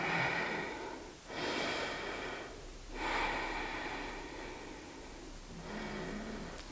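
Slow, soft breaths during a seated hatha yoga session, three or four long airy inhales and exhales in a quiet room with short pauses between them.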